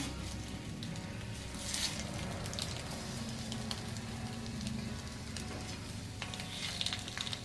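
Eggs frying in a pan for an egg masala give a steady, dense sizzle and crackle that runs evenly throughout at moderate level, with no one speaking.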